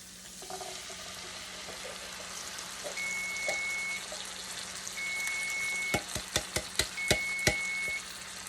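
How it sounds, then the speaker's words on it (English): A can of black beans, juice and all, goes into a hot pan with garlic, giving a steady broad sizzle and wet hiss. Near the end come a series of sharp clacks and taps close by. "all I'm going to do is add a can of black beans. You add the juice and everything"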